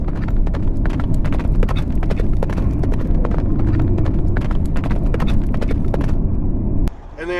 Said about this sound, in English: there's somebody riding a horse up over this bridge over the interstate